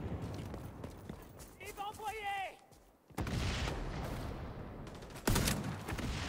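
Bursts of gunfire in the shooter game XDefiant, loud rattling shots in two stretches with a brief lull between them and a sharp final crack, while someone talks in French over the action.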